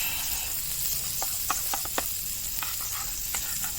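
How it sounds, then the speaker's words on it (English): A utensil stirs pancake batter in a pan, giving a handful of quick, close clicks and taps over a faint, steady sizzle of butter. "Stir this up real quick"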